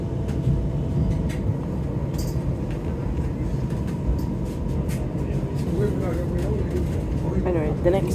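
Birmingham tram running between stops toward Bull Street, a steady rumbling ride with rolling wheel noise and faint squeals, voices talking over it throughout.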